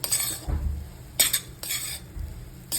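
Fried boondi for motichoor laddu being stirred and turned in a pan over low heat, with a few distinct scraping, clinking strokes of a spoon against metal among quieter rustling.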